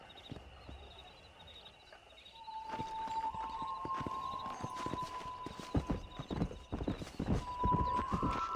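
A horse in the Red Dead Redemption video game clip-clops along at a steady walking rhythm, hooves close and growing louder, with a brief whinny and faint game ambience behind.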